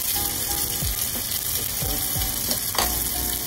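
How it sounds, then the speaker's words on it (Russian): Butter sizzling in a hot pan alongside a beef steak, a steady crackling fry with scattered pops and light utensil scrapes, close and continuous without talk. "На этот раз мы добавляем сливочного масла."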